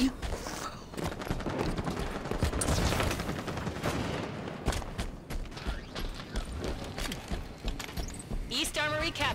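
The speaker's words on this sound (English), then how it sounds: "Take that binary rifle" Binary rifle fire in Halo 5: Guardians Warzone, sharp shots and mechanical clicks amid busy gameplay noise and scattered footsteps.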